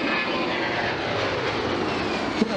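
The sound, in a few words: airplane flying overhead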